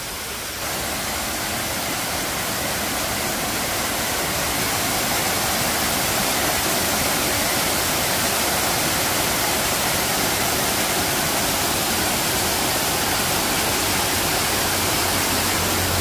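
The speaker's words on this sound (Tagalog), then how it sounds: "Napakarami talagang falls dito sa Tuba Benguet Trippers." A twin waterfall in Tuba, Benguet roars as a steady, loud, broadband rush of falling water that fills the whole clip without a break, with no voices.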